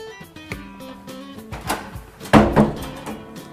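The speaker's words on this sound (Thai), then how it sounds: "เอาคีย์การ์ดแปะปุ๊บก็เปิดประตูเข้าห้องได้เลย" An apartment door with a hotel-style key card lock in a Bangkok condo is unlocked and swung open, giving a few soft clicks and wooden knocks, then a louder thud and rattle as the door moves, close by with no talking.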